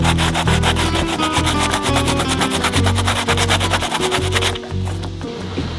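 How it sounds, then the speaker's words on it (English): Dremel rotary tool with sandpaper grinding old glue aboard a sailboat, a loud continuous buzzing, rubbing grind with a rapid pulsing rhythm, close up, easing off slightly near the end. "So now I'm gonna take a Dremel, some sandpaper."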